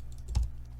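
A command typed on a computer keyboard: a brief cluster of soft key clicks with one slightly louder press, close and alone.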